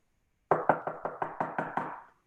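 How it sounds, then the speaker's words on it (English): Seven heavy knocks pound on a door in a quick, steady rhythm, each a loud close thud that fades slightly toward the end, with silence around them. "Again, there's another pounding on the door."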